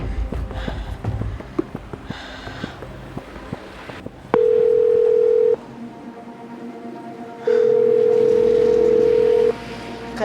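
A steady telephone ringback tone sounds twice, each ring about a second or two long, with a pause between and faint background noise.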